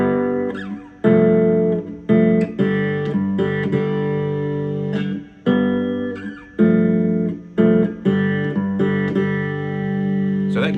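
A three-string cigar box guitar plays a riff in G in a straight, even rhythm, loud and close, with short gaps between repeated phrases and no talking.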